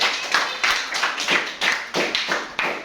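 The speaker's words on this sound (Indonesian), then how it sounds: "Beri tepuk tangan" Students in a classroom clap together in a brief burst of applause, a steady rhythm of sharp hand claps lasting a few seconds with no talk over it.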